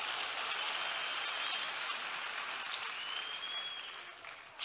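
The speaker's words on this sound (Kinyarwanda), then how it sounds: "Muyikomera amashyi yo kabyara." A church congregation applauds God with steady, dense clapping heard from a short distance, holding even for several seconds before easing slightly at the end.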